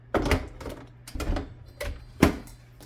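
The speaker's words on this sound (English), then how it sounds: "Now you place the pan into the machine" Bread pan going into a bread machine, several light clicks and clunks in a loose uneven rhythm as it is fitted and locked in, close by and fairly quiet.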